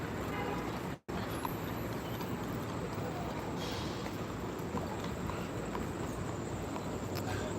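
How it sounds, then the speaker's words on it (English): Horse-drawn carriage hooves clip-clop steadily along a busy New York City street near Central Park, set in continuous traffic and crowd noise with faint voices in the background. "Like these little horse and carriages"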